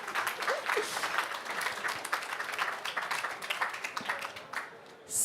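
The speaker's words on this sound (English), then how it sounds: "And this is your applause now" Audience at a science evening event applauds steadily for several seconds, a dense mix of clapping that fades briefly near the end before a final louder burst, with no talking.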